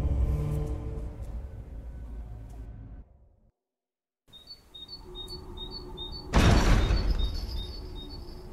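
Birds chirping in The Inquisitor video game, with short repeated high tweets over a low ambient rumble, interrupted by a brief silence, then a louder rushing burst as the chirps continue.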